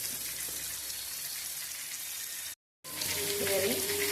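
Tomato sizzles and fries in a pan for chitranna, a dense, steady close hiss that cuts out for a moment and then returns slightly louder.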